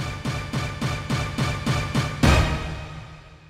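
A punchy synth orchestra-hit sample fired eight times in a steady rhythm, ending on a bigger, sustained hit that rings out and fades.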